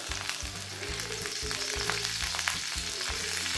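Mustard seeds, cumin and curry leaves frying in hot oil for a South Indian buttermilk dish, a close, dense steady sizzle with faint spattering, continuous and without talk.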